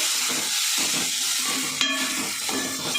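Spices with turmeric and coriander powder sizzle steadily while being sautéed in a pan for a village-style cowpea curry, a close, continuous frying hiss with soft stirring scrapes and no talk.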